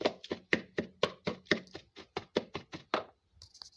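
Butter is chopped in a dish with rapid, evenly spaced knife strikes, about a dozen crisp close thuds in quick rhythm before stopping, with no talking.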